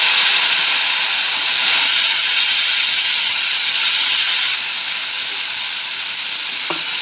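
Finely chopped pumpkin hits a hot pan for a home-style bhaji and sizzles in a loud, steady hiss that eases slightly partway through, with no voices.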